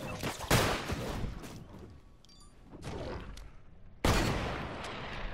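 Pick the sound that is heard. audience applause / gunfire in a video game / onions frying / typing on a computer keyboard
gunfire in a video game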